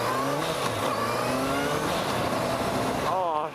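A four-cylinder motorcycle engine revs up and pulls through rising and falling pitch sweeps, loud and close, with a voice speaking over it near the end.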